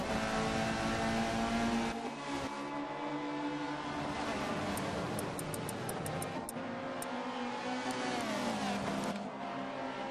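Chevrolet touring cars roar through a racing video game race at Silverstone, engines loud and continuous with rising and falling revs and overlapping cars.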